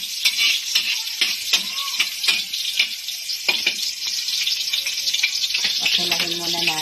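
Chicken pieces for adobo drop into hot oil and fry with a loud, continuous crackling sizzle, punctuated by spatters and pan knocks. A brief voice is heard near the end.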